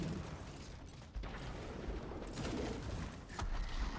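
The Witherhoard weapon fires in Destiny 2 during a Grandmaster Nightfall on A Garden World: dense, close bursts of gunfire and mechanical clatter with a few sharper shots over constant loud battle noise.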